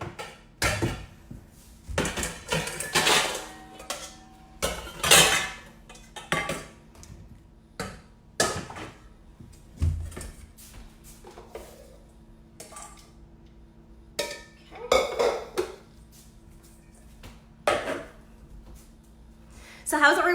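Dishes, bowls and cutlery clink and clatter in a home kitchen as a bowl is pulled from a cupboard, sharp scattered knocks and rattles close by with quiet gaps between, under a low steady hum.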